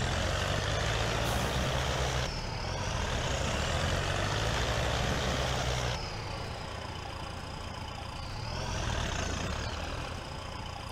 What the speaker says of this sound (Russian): У него звук какой-то необыкновенный. Заводится как Урал.